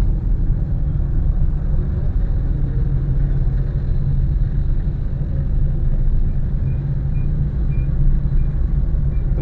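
Steady low road rumble of slow, congested traffic heard from inside a car on a jammed road near a high-speed railway station construction area, with a continuous engine and tyre drone and no talking.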